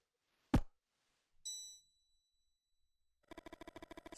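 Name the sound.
bell ringing in video game Mothmen 1966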